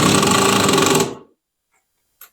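A DeWalt power tool drives a screw into a heavy-duty workbench in one loud, gritty, buzzing burst of about a second, which cuts off sharply into near silence.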